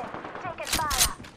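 Gunfire from the Apex Legends video game: a couple of sharp broadband bursts close together, fairly loud, partly mixed with a voice talking over the shots.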